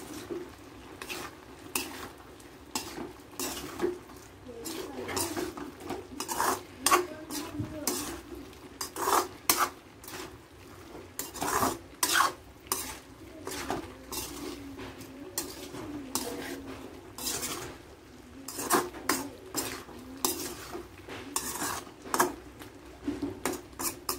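Beef with garam masala and ground spices is stirred in a pan, giving repeated sharp scrapes and clinks of a utensil against metal in an irregular rhythm over a low, quiet sizzle, close by with no speech.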